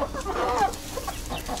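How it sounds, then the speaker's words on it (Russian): Backyard hens cluck and murmur close by in a short, continuous burst of soft chatter and a few rising notes, with no talking. "Эти мои хорошие, такие красивые курочки вы у меня."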